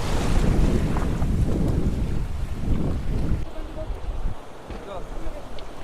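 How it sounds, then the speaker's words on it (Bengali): Strong wind buffets the microphone on a river under heavy cloud, with waves slapping around a small fishing boat, loud gusty rumble easing toward the end. "কীভাবে ঢেউ আসছে দেখো"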